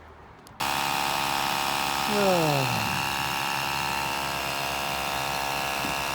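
A portable electric pump inflates a Nissan Leaf's car tyre on a frosty morning, starting abruptly with a steady buzzing whine that runs continuously and close, briefly rising in pitch early on.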